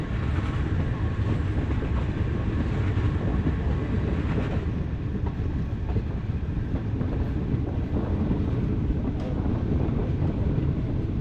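A train runs along the Death Railway in Thailand, giving a steady, loud rumble with rhythmic clickety-clack from the wagons and some wind buffeting the microphone throughout, with no talk.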